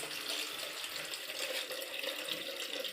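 Water runs steadily from an opened tap, a continuous close hiss of flowing water lasting the whole stretch with no speech.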